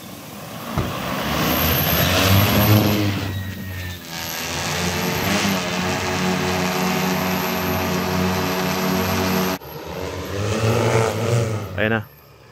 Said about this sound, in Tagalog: So, ayan na guys. Drone tayo ngayon,